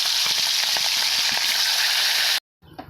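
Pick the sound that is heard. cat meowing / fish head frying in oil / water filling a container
fish head frying in oil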